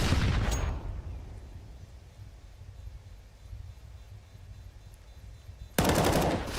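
Counter-Strike gunfire on the Inferno map in a FaZe versus OG BLAST Premier match: a sharp burst of rapid shots at the start, a quieter stretch, then another loud volley at the end.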